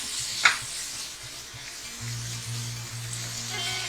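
Rasam ingredients cooking in a pan give off a soft, steady sizzle, with a sharp clink near the start and a low hum underneath, and no one talks.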